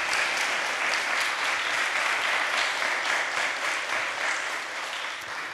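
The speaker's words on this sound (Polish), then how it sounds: "Wielkie brawa dla naszej gościni" Steady, dense audience applause fills a hall at a literary festival in Sopot as a guest author is welcomed, sustained and even throughout, heard at a moderate distance with no voices on top.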